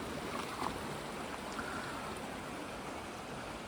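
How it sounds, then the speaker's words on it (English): Steady broadband rush of a stream flowing near Janet's Foss, a plunge pool waterfall in a wooded setting, heard close and continuous with no voices. "follow the stream down here and just have a little look at this like plunge pool waterfall called Janet's Foss"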